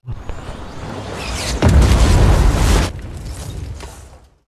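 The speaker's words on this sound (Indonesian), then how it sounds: "Setelah terkonfirmasi, mereka pun meledakkan tempat tersebut." A film-scene explosion as a targeted site is blown up: a deep, loud boom bursts in after a brief rumbling build-up, roars for over a second, then gives way to a fading rumble.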